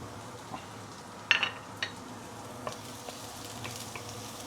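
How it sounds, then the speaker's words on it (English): Shallot, garlic and dried shrimp frying in hot oil give a faint, steady sizzle, with a few soft clicks of a utensil stirring the pan. "Once the oil started to heat up, we can actually put in the shallot, garlic, and also dried shrimp."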